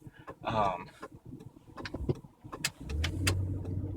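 Cars pass through a narrow one-lane underpass where drivers take turns, with engines rumbling nearby and a low engine hum building toward the end.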